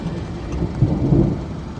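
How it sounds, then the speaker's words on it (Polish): Thunder from an approaching supercell thunderstorm with possible hail over the Lublin region, a low continuous rumble that swells slightly midway, distant and steady with no voices. "naprawdę piękna burza do nas idzie"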